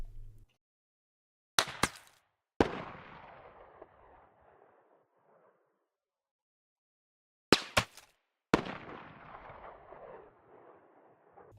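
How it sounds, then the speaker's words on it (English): Long-range rifle fire in the Squad video game: two pairs of sharp bullet cracks, each followed a beat later by a distant rifle report that rolls away in a long fading echo, with silence between them. "This is what it sounds like to be shot at by an enemy at long range."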